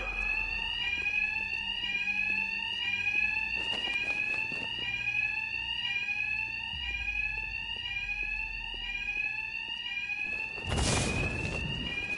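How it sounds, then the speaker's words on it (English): A continuous electronic alarm rings steadily inside the video game Batman Arkham Knight, with repeating high, sweeping tones throughout and a loud burst near the end. "My attacks will be covered by the noise of the alarm."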